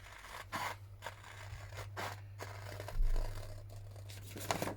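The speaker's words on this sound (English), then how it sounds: "we fussy cut round this plant" Scissors fussy cutting around a plant motif on a paper journal page, giving a few close, quiet snips and paper scrapes spaced irregularly, with one louder rustle near the middle and no talk.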